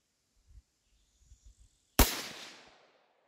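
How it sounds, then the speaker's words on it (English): A single sharp rifle shot from a Savage .17 HMR on an outdoor range at 100 yards, loud and sudden with a decaying echo tail, preceded by a few faint soft clicks and handling noises. "first shot at 100 yards"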